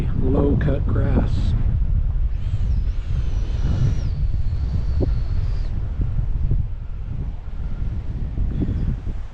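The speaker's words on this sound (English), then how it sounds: "The wind is actually picking up a little bit here" Strong wind gusting across an open RC flying field, a loud steady roar buffeting the microphone throughout, with faint engine or motor whine rising briefly in the background.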